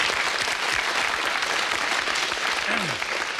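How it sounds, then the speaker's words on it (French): A television studio audience claps steadily and warmly, a dense even applause filling the room throughout. "Eh bien, on vous applaudit d'ores et déjà."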